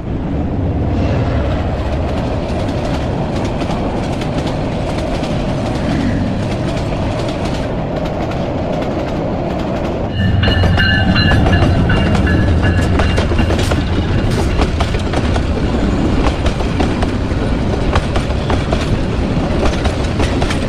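A train departs from Bhairab station near the Meghna bridges in Bangladesh, rumbling loudly and continuously with clattering wheels on the rails, then growing heavier and louder midway as more cars pass close by.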